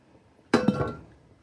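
A pressure cooker lid is set onto the pot while cooking venison, giving one sharp metallic clink followed by a short rattling settle, close and alone.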